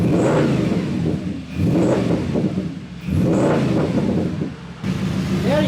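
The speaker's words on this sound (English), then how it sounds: "Shall I give it a rev so you can hear?" A V8 Jaguar bought at auction revs hard in surges with a loud, rumbling exhaust, climbing and falling across several pulls before a short idle and a final blip close by.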